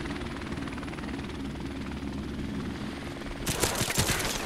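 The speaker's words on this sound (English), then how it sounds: "Enemy helicopter inbound." Enemy helicopter in Call of Duty: Modern Warfare Remastered multiplayer, a steady low rotor drone running throughout, with a burst of louder gunfire-like noise near the end.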